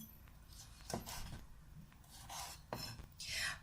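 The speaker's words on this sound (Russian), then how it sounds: "И режем. Режу просто кубиками вот такими." Knife cutting unpeeled tomatoes into cubes on a board, a few separate soft chopping taps with wet slicing sounds between them, quiet and close, with no speech.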